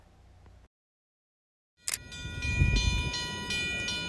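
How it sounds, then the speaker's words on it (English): Drawbridge in downtown Mystic, Connecticut: after a brief quiet gap, a sharp onset gives way to a loud, sustained mechanical rumble with high tonal whine, heard close and without talk. "It must be the drawbridge going up."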